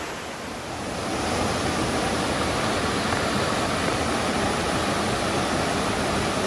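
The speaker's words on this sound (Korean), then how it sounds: "폭포 구경하세요 여러분." Ssangyong waterfall on Seoraksan, swollen after heavy rain, a dense steady roar of rushing water that swells up in the first second and then holds loud and even.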